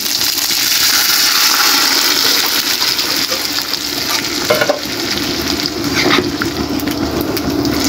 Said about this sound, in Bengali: আমার শাকটা ভাজা, পেঁয়াজটা ভাজা হয়ে গেছে। এখন আমি এগুলো ঢেলে দিব।